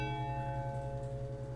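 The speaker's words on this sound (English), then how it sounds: "No, not the bell again." Steady, sustained bell tone ringing in the video game Wood Killer, a rich set of held harmonics droning evenly and fairly quietly throughout with no voices over it.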